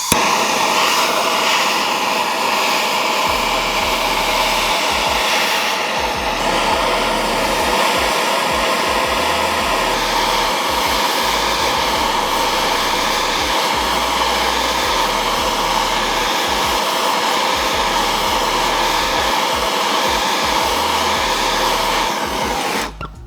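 A heat gun blows steadily on a Seadoo 717 two-stroke engine part during disassembly, a constant loud whooshing roar lasting the whole stretch and cutting off abruptly at the end.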